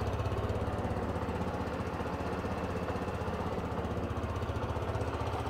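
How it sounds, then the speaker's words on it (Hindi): A 2024 TVS Jupiter 125 scooter engine idles with a steady, fast throbbing putter, close and constant throughout, with no other sounds. "अब इसके इंजन का साउंड सुनिए,"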